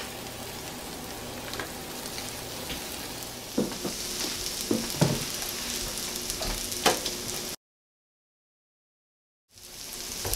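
Keto salmon patties and crab cakes fry in a pan with a steady, close sizzle and crackle, a few brief clatters partway through, then a short silent gap before the frying resumes.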